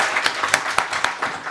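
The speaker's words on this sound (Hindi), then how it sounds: "जोरदार तालियां।" Audience applause in a hall at a talk on news anchoring, a broad steady wash of clapping with a few sharper claps standing out, moderately loud, with no voices over it.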